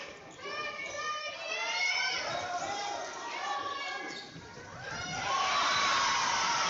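A crowd at a high school varsity volleyball match between Robbinsville and Swain County roars steadily, rising in waves and swelling louder near the end, with a commentator's voice carrying over the noise.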